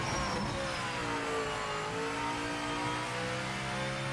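A hypercar engine in the racing game Project Motor Racing, revving and shifting pitch with a continuous high, buzzy tone heard up close and steady, with no one talking over it.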